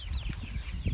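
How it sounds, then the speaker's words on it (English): Batch of chickens on a farm producing soft low clucking and murmuring, a few birds close together with faint higher chirps over a steady background. "Batch 2 of the chickens looking good, and Mr. P, the peacock, is looking after th"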